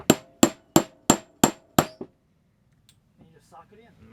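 Six sharp metallic taps in a steady rhythm as a socket drives a seal in on a Yamaha TTR motorcycle, close and loud, then near silence with faint handling noises.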